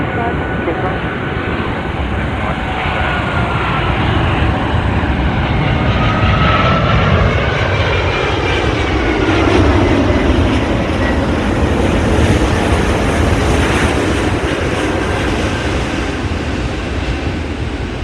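A heavy airliner landing at Sydney Airport: a loud, sustained engine roar and rushing jet noise throughout, with air traffic control voices over it.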